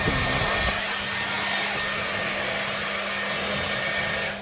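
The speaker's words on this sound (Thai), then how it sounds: "อันนี้ก็จะเป่าผมให้แห้งมากก่อนที่จะทำการม้วนผม" A Dyson Airwrap runs as a hair dryer, a loud, steady whooshing airflow with a constant motor hum that holds for several seconds and then fades at the end, with no talking.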